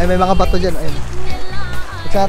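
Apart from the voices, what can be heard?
No everyday noises stand out.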